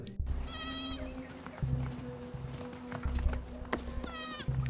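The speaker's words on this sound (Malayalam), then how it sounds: "ആ ചുന്ദരി ആട്ടിൻകുട്ടി ഓടി കുസുമായിൻ്റെ അടുത്തേക്ക് വരുന്നുണ്ട്." A lamb in a TV series scene bleats twice, near and clear, with short quavering cries at the start and near the end over a low background hum.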